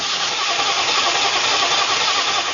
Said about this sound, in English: Although the starter motor is turning over, the engine doesn't kick in.